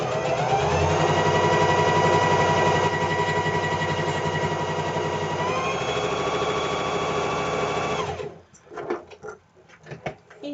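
Domestic sewing machine running a straight top stitch at 2.5 length through lightweight fabric, a steady close whirring hum for about eight seconds before stopping, followed by faint handling noises.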